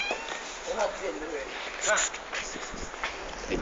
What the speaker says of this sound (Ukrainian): Не їсть? Це наш кіт.